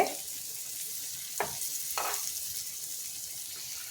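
Sesame-coated paneer sizzling as it roasts in a pan gives a steady, soft crackling hiss with two brief louder bursts of spatter or stirring, and no voices.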